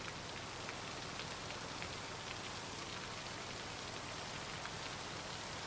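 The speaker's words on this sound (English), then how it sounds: "Look at that, I'm getting rain." Rain falling in the survival game Project Zomboid: a dense, even hiss of steady rainfall with faint droplet patter, constant and fairly quiet throughout, with no voices.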